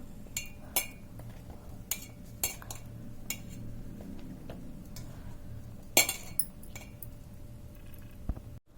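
A spoon scraping and clinking against a pan while dry poha is mixed with salt and turmeric, giving scattered light metallic taps and chinks at an unhurried, irregular pace over a faint steady hum.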